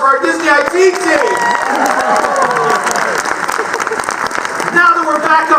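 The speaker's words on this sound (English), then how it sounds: "How about a big round of applause for our Disney IT team?" An evening event crowd at Disney breaks into loud, sustained applause and cheering, with a host's voice carrying over the clapping.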